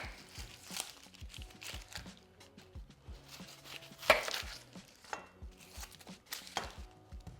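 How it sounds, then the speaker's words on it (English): A knife chops through half an onion in a series of crisp, irregular cuts, with one louder, sharper strike midway; up close, and no talking. "Now I'm going to cut my onion."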